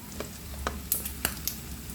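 Red onion, ginger and garlic sauté in a pan with a soft, steady sizzle, punctuated by a few light scraping stirs, faint and close.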